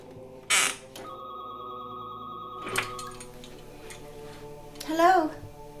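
An old-style telephone bell rings with a steady sustained tone lasting about two seconds, framed by brief voices before and after.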